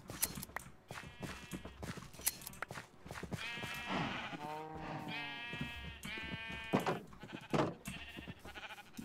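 Several Minecraft sheep bleat in overlapping wavering calls amid busy tapping footsteps and blocky game clicks, close and steady throughout.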